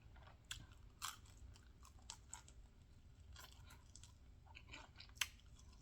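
Someone chews a fried chicken wing tip from Harold's Chicken in Chicago, with soft crunches and bites at close range. The sounds are quiet, spaced out and irregular, and nobody talks.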